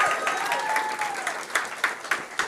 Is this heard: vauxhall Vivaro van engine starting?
no